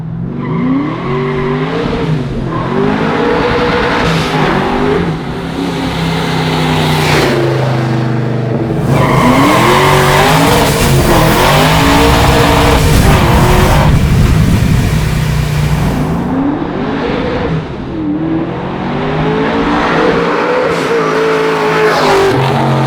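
A 900-horsepower classic Chevrolet Chevelle is driven hard, its engine roaring loud and close through repeated rising revs and gear changes, with tires squealing and scrubbing in the middle stretch.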